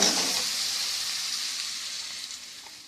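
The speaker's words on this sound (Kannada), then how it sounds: "ಹಸಿ ವಾಸನೆ ಎಲ್ಲ ಹೋಗೋವರೆಗೂ ಫ್ರೈ ಮಾಡಿ" Ground green chilli, garlic and coriander masala fries in hot oil with a steady soft sizzle that slowly fades, with no voices.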